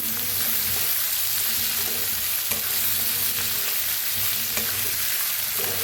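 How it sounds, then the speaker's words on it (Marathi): Cut potatoes stirred into fried masala in a pan for a North Karnataka–style potato bhaji, with a continuous hot oil sizzle and occasional scraping clinks of the spoon against the pan. "आता ह्याच्यात टाकूया बटाटू कापून घेतलेले आता मिक्स करूया"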